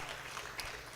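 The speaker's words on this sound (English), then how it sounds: "let's give a big and warm applause to Dr. Priscilla" Faint applause from an audience at a symposium on social behavioural change in emergencies, a quiet, even spatter of hands lasting about a second, with one slightly louder moment midway.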